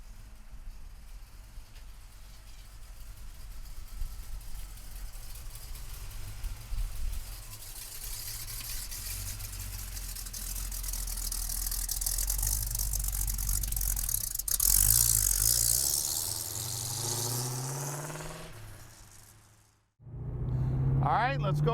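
A restored 1976 Pontiac Trans Am with a 4-speed manual sets off on a drive, its engine giving a steady, close rumble that climbs into a rising rev before cutting off abruptly near the end.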